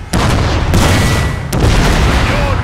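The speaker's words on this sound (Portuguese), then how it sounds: "Maluco, o som do canhão." Twelve-pounder cannon fire in the Napoleonic battle game Total War: Napoleon: a dense, continuous roar of booming shots rolling over one another for the whole stretch, loud and sustained with no talk over it.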